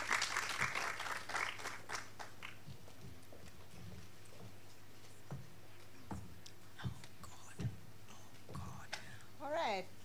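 Conference audience clapping after a presentation at the JA Kids Inaugural Conference, a brief burst of applause at the start that quickly fades into a quiet room with scattered claps and a voice briefly at the end.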